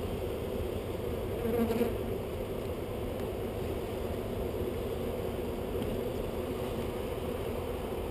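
About 10,000 honey bees buzz steadily as they are swept into a new hive, a dense, even swarm drone held close and constant, with a brief swell near the start.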